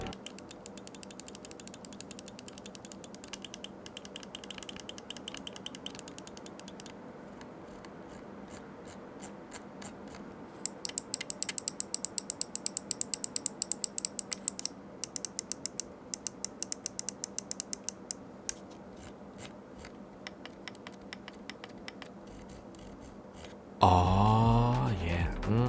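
Clicking from the buttons and scroll wheel of a Pwnage Trinity CF gaming mouse: close, dry ticks in quick irregular bursts, with rapid ratcheting runs of light, defined wheel notches, alone with no talk.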